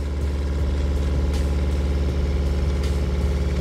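An RV water pump runs with the sink tap open, giving a loud, steady motor hum with an even drone and no breaks throughout.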